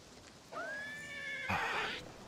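A horse in the video game The Elder Scrolls IV: Oblivion Remastered gives a single loud whinny, a rising then wavering neigh that ends in a breathy snort, heard alone over faint background noise.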